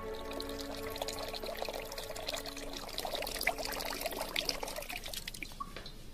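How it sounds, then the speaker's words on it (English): Water flows steadily into an ancient clepsydra water clock, a soft continuous pouring and trickling with faint drips, heard alone without talk. "the way to simplify the Egyptian clepsydra was not to utilize outflow of water, but to try and obtain a uniform inflow of water"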